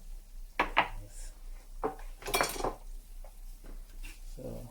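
Fried masala chips being tossed with Kashmiri chili powder in a bowl: faint, irregular clinks and scrapes of a spoon against the bowl, with soft rustling of chips between strokes.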